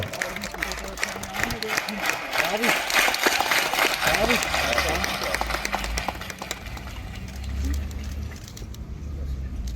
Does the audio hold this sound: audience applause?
yes